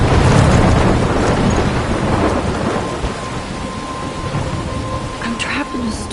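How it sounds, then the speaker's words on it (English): Thunderstorm in the video game Life is Strange: a loud rumble of thunder over heavy, steady rain, the roar easing slightly as the downpour continues. "I'm trapped in a storm?"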